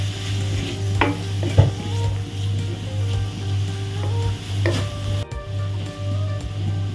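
Pinapaitan ingredients sautéing in a pan, a steady sizzle with scraping stirs and occasional utensil knocks against the pan, close and continuous with no talking.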